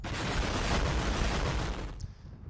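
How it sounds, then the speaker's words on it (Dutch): An explosion sound effect: a loud, dense roaring blast that rumbles steadily for about two seconds, then drops off abruptly into a faint fading tail, with no voices. "Of bij een explosie."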